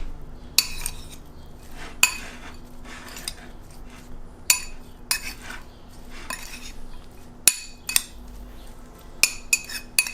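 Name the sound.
mixing taco filling with salt and pepper in a pan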